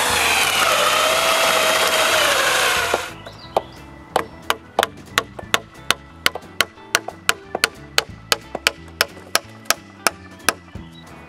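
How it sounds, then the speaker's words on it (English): A drill whirs loudly for a few seconds boring peg holes in wooden beams, then stops, followed by a steady series of sharp knocking taps as pegs are driven in. "When everything is in place, I drill for the pegs and install them."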